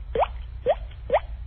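A voice mimics a water drip with three evenly spaced, quick upward plops, close and distinct against a quiet background.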